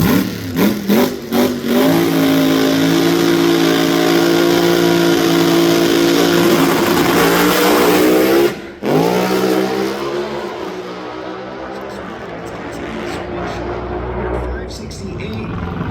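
NHRA Top Alcohol final-round drag racing cars launching together, a loud sustained engine roar with rising harmonic pitch, a sharp break mid-run, then a fading rumble as the cars head away, with an announcer talking over it.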